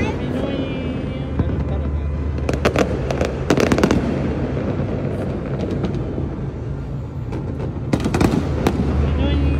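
Repeated New Year fireworks crackle and pop at a distance, clustered in irregular volleys, over a steady background rumble and crowd voices.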